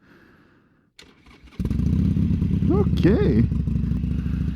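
A Harley-Davidson Sportster motorcycle cranks with a few short bursts, then fires and catches into a loud, rumbling idle with a couple of throttle blips. A voice speaks briefly near the start.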